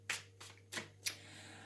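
A deck of tarot cards being shuffled by hand, with four short riffling bursts at a steady pace, close and quiet against a low background hum.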